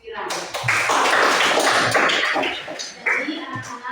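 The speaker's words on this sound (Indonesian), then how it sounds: "tepuk tangan untuk Kiran" A classroom of children claps for a classmate at school, a dense burst of many hands patting together for a few seconds, with a light thump or two near the end.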